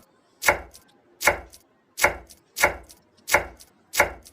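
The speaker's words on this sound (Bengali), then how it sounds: "প্রথমে আমি ধনিয়া পাতাটা কুচিয়ে নিচ্ছি এই তো আরও ছোটো ছোটো করে কুচিয়ে নেবো" Coriander leaves chopped with a knife on a board, seven sharp, evenly spaced chops ringing out close and alone, each with a short follow-up tap.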